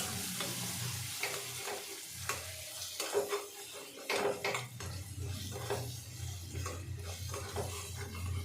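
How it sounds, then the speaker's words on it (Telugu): Onions fry with ginger garlic paste in a pan for a Telugu-style chicken curry, a steady close sizzle broken by repeated scraping stirs of a spoon against the metal. "ఇప్పుడు అల్లం వెల్లుల్లి పేస్ట్ వేసేద్దాం. దీంట్లో అల్లం వెల్లుల్లి పేస్ట్ పచ్చివాసన పోయేంత వరకు ఉంచుకొని"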